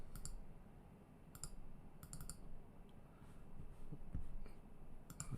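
A computer mouse clicks in sharp, close bursts, sometimes single and sometimes in quick doubles, against a quiet room hum with no talking.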